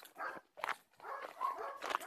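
A herding dog near a flock grazing along a roadside gives a series of close, loud barks and yips in an uneven rhythm, with no talking over them.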